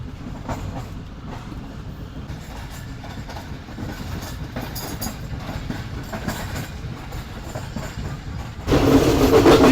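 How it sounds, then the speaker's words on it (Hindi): Karakoram Express train running on rails in winter, heard from inside an economy-class carriage: a steady rumble with faint clickety-clack, swelling louder near the end. "पहले ट्रेन काफ़ी अच्छा आ रही थी लेकिन अब ब्रेक लगना शुरू हो गए हैं।"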